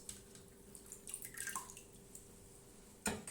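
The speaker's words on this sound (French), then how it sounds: "on va prendre les tiges et on va les plonger à leur tour dans l'eau pour les rincer" Parsley stems are plunged into water and rinsed, giving soft drips and splashes with a small burst of sloshing water at the end, with no voices.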